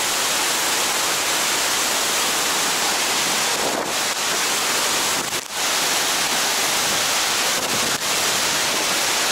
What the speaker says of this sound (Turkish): Muhteşem bir şelale.